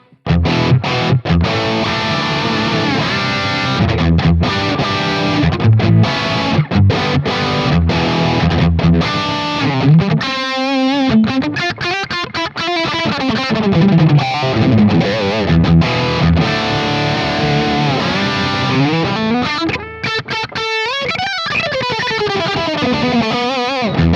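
Electric guitar, a Donner DST-550, played through a Quad Cortex with a distorted preset, a loud, continuous stretch of overdriven chords and sustained lead notes with effects, and no talking.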